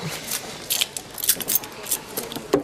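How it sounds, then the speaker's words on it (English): A bunch of keys jangles and clinks in bursts of bright metallic rattling close by, with people talking over it. "Get the keys."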